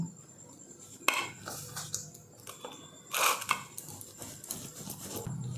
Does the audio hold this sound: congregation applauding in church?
no